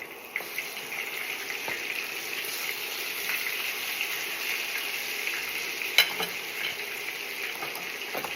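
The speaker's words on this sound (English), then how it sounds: "Even after cooking the salmon for probably good, 5 minutes, skin down, we're gonna flip it" Salmon frying skin-side down in hot oil, a close, steady sizzle with faint crackles and a brief clatter near six seconds as it is flipped.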